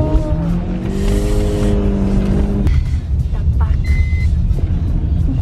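A cold drift car's engine revs hard in a steady, droning pitch for a few seconds, then drops to a rough idle, with voices faintly in the background.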